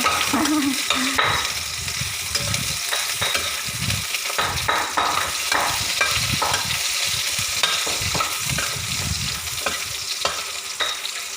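Vegetables with garlic stir-fried in a home kitchen, dense rapid scraping and clattering of a spatula against the pan over a loud continuous sizzle, close and sustained throughout.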